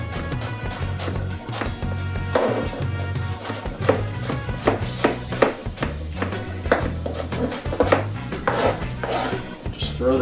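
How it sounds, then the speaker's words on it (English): A knife chops an onion for baked pork chops, with rapid, rhythmic blade strikes on a cutting surface that continue steadily throughout, close and crisp, with brief pauses between bursts. "I'm just going to chop this onion up."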